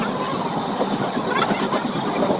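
Passenger train running from Howrah to Santiniketan, heard as a steady, loud rolling rumble with broadband hiss and faint rhythmic rattles, continuous throughout with no talk.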